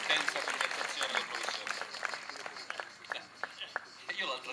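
Audience applause at an environmental conference in Italy, a dense patter of clapping hands that thins into scattered claps over several seconds, with voices faintly beneath.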